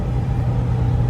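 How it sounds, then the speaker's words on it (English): A 7.3 turbo diesel truck engine cruising steadily, giving a continuous low rumbling drone with a faint turbo whine layered above, close and even throughout. "I don't know if you guys can hear that turbo or not"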